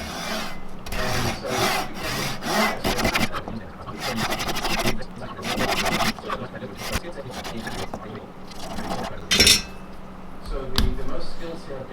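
A wooden fish carving is sawn in half with a hand saw in bursts of rapid, rasping back-and-forth strokes, close and loud, with short pauses between runs.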